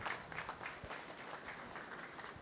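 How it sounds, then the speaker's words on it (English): Spectators at a Holstein dairy cow show applaud the breeders and exhibitors of young red cows, a soft, distant, even patter of many hands clapping in a large space, with no speech. "here a nice round of applause."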